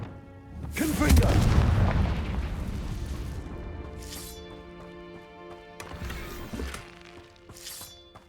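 The Confringo blasting spell in Hogwarts Legacy sets off a loud, deep explosion that rumbles and slowly decays, followed by a few lighter bursts and pops.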